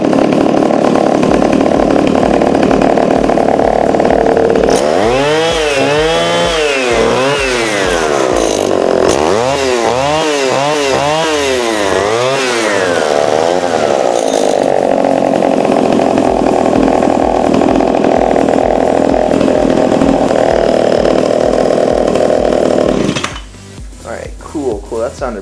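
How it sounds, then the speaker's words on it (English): A BladeZ gas scooter's small engine is revved repeatedly, its buzzing whine rising and falling in several bursts close by, then settling into a steady idle before cutting down near the end. "let's go ahead and rev it up"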